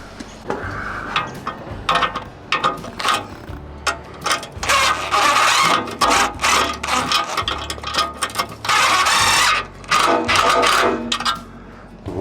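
Wrench ratcheting on bolts while a skid steer attachment is fitted, giving bursts of rapid metallic clicking separated by short pauses. The sound is close and fairly loud, with no voices.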